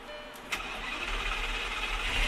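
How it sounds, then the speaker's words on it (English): A Lamborghini engine cold-starts in winter, cranking and firing up with a quick bark, then settles into a loud, steady rumbling idle that swells slightly toward the end. "the only good thing about not driving this super often is the cold starts"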